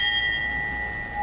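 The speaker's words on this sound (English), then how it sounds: "the bell is rung to acknowledge their passing" A memorial bell rung for a fallen soldier during a veterans' tribute holds a steady ringing tone that sustains across the whole moment, clear and alone with no talk over it.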